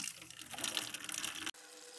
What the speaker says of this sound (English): all the water flowing out of the faucet goes into the bucket